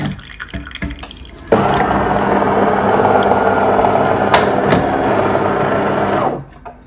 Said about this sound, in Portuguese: Água quente que tá saindo.